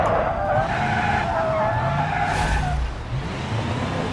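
A handbrake skid from an SUV in the BeamNG driving game: a loud, sustained tire squeal with a wavering pitch runs over a steady engine drone for about four seconds, without any voices.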